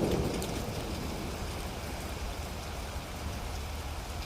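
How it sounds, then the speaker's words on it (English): Steady rain falls through the woods as a dense, even hiss of drops with no breaks, soft and constant throughout and free of voices. "I love walking through the woods in the rain. I love the sound of the rain."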